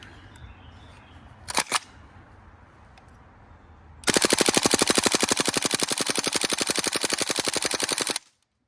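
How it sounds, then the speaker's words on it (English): A fully upgraded GHK AK74MN v2 gas blowback airsoft rifle fires a long sustained full-auto burst of rapid, evenly spaced loud shots, preceded by a couple of sharp mechanical clicks and handling noise. "I would like to test this guy out in full auto"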